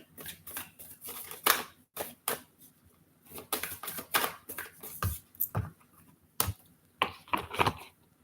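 A run of crisp, papery tarot card riffles and flicks in uneven bursts, close by, with brief pauses between shuffles and no talking.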